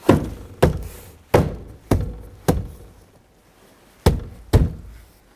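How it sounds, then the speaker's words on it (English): Plastic trim buttons on a 2011-2017 Honda Odyssey door panel snap into place one after another, seven sharp close thunks spaced unevenly with a short gap between the first five and the last two. "Work your way around the perimeter of the door, snapping those plastic buttons into place."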